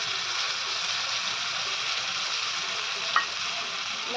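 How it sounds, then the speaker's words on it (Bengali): Ground ginger, cumin, garlic and onion paste frying in a pan, a steady close sizzle with faint stirring and a single small metallic click partway through. "মশলাটা আমি বেশ ভালো করে একটু কষিয়ে নেব।"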